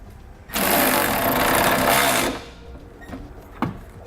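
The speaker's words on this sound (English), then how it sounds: "I'm going to come back with a 3/4-inch socket and tighten them up" Flange nuts on a Curt trailer hitch receiver being tightened with a 3/4-inch socket on a 2017 Mazda CX-5: one loud, steady power-tool whir lasting about two seconds, followed by quieter clicks and a sharp tap.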